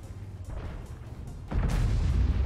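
An artillery tank fires in the World of Tanks video game, on the Fjords map: a single heavy, booming shot hits about halfway through and rolls on as a low rumble.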